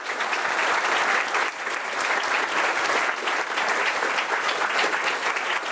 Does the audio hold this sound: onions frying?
no